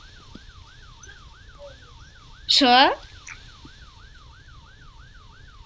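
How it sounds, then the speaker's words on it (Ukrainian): A police car siren in Roblox Brookhaven wails with a steady, fast up-and-down cycle, fairly faint and sustained across the clip, broken midway by a short loud burst of a young voice. "Коло мене поліцейська машина, найс"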